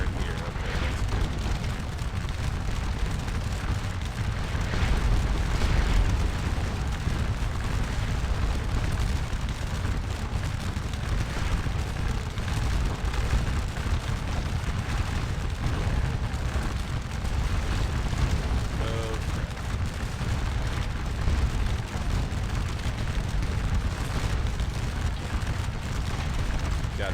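A Napoleonic battle in Scourge of War: Waterloo at Ligny rumbles with distant musket volleys and booming explosions, a steady low roar throughout while someone talks over it.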